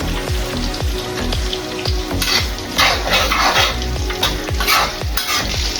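Mustard seeds, fenugreek, dried chillies and curry leaves sizzle loudly in hot oil for a fish pickle, a dense crackling fry with repeated spoon stirring and scraping against the pan, no talk.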